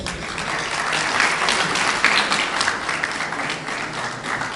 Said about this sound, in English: Wow, another round of applause.